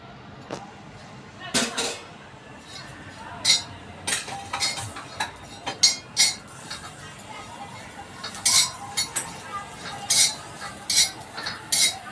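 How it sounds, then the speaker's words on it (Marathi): Dry grated coconut roasting in a pan, stirred with a metal spoon: repeated sharp scraping clinks and taps against the pan in irregular bursts, fairly close, with faint background noise and no talking. "हे मी आता खोबरा वाजून घेते"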